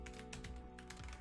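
Close, quiet clatter of fingers typing on a computer keyboard, a quick run of light key taps over a low hum, with no voices.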